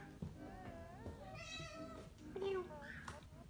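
A cat meows a few times in short, rising calls, close by, with a person speaking softly around the meows.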